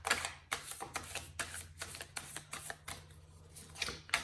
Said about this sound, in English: I'll shuffle them again